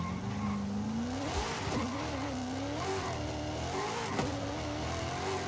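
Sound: car driving on a race track in the video game Forza Horizon 5

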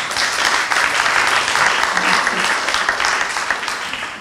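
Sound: audience applause

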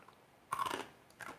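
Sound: crunching while eating crunchy food

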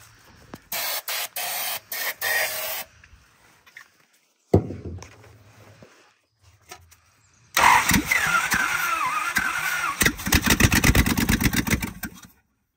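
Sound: 1970 Dodge D300 truck engine starting, exhaust header missing

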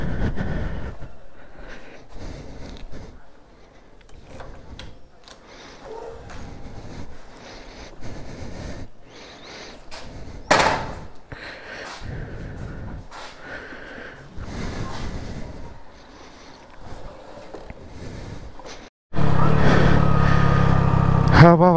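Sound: Bajaj Dominar 400 motorcycle being kick-started

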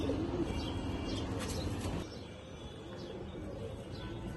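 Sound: Bagha silver pigeons cooing

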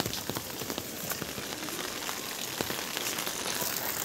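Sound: rain falling in a village in Uttarakhand

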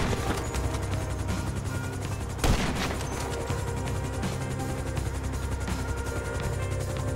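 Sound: sniper rifle gunfire in video game GTA V

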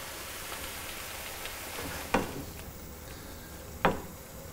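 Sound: vegetable stock added to sizzling mushrooms and courgette

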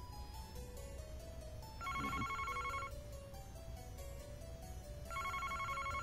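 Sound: telephone ringing in Famicom Detective Club video game

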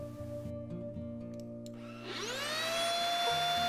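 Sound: Alfawise cordless vacuum cleaner running

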